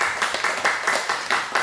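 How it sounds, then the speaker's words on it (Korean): A church congregation claps together in unison during a Korean worship service, a brief run of rhythmic, evenly spaced claps at moderate volume with no speech over them. "감사와 찬송과 영광의 박수 드리겠습니다."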